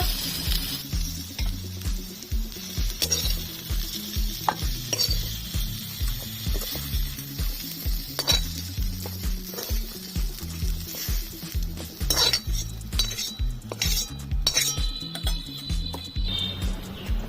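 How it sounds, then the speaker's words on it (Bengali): Long beans and potato pieces sizzle and crackle steadily in hot oil in a pan, with soft spattering and occasional clinks as the pieces are lifted out, no voices over the frying. "বরবটি আলু অল্প করে ভেজে নিয়েছি তুলে নেব"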